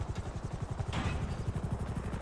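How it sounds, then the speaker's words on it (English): Attack helicopter in GTA Online, a steady rapid rotor chop with engine whine, loud and continuous throughout with no voices. "There he is in his attack helicopter."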